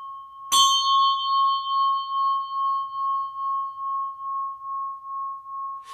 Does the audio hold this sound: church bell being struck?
yes